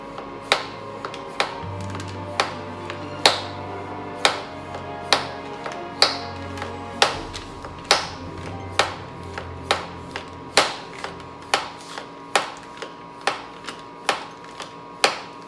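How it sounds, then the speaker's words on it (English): A hand vacuum pump evacuating a sous vide steak bag clicks in a steady, even rhythm, roughly one sharp stroke per second, close by with a faint hum underneath. "we're going to put the vacuum pump on this blue circle"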